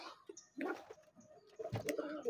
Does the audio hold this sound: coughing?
no